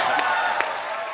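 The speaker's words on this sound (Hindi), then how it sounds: "आप सबकी जोरदार तालियों के बीच इनवाइट करना चाहता हूँ the very beautiful and talented Shraddha Kapoor." A studio audience at a Hindi comedy talk show claps in a dense, steady wash of applause, loud and close, with a couple of sharper claps standing out.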